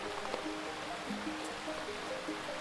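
A hiking stream flows with a soft, steady babble of water, faint and continuous, with light tonal trickles over the gentle rush and no speech.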